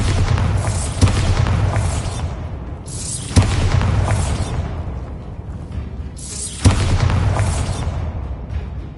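Bombarda blasting spell explosions in a Harry Potter video game, three loud booming blasts spaced about three seconds apart, each with a sharp crack and a long rumbling, crumbling decay.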